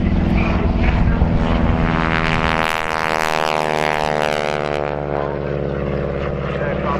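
At the RAF Cosford airshow, a propeller-driven display aircraft rolls and gets airborne, its loud throbbing engine drone rising and sweeping in pitch as it passes near, with an announcer's voice faintly in the mix.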